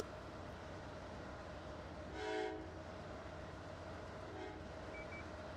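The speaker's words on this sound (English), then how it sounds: "To make sure we're honking at the crossings" A train horn in the Rail Sim Universe game sounds once at a crossing, a short tonal blast over a steady rumbling engine and rail noise.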